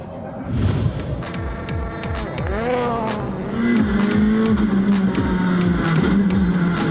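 Rallycross cars at the race start of the 2019 World Rallycross of Latvia; several engines rev hard through rapid gear changes, with rising and falling pitch sweeps and a sustained loud roar.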